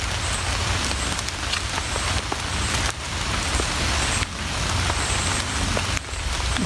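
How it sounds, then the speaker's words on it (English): Steady rain falls hard on an Adirondack shelter in the woods, a dense, continuous hiss of drops close by with no voices. "It's starting to really rain."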